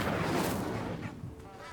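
Incendio fire spell cast in Hogwarts Legacy, a dense roaring whoosh that is loud at the start and fades over under two seconds, with speech faintly mixed in.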